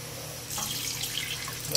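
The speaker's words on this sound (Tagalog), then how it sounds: "magdagdag tayo ng tubig." Water runs into a pot of champorado. After a brief quiet moment, a steady pouring splash starts, close and continuous to the end.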